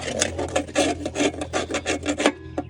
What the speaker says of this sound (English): take an old screwdriver here and just bust up some of this mud and stuff that's caked on there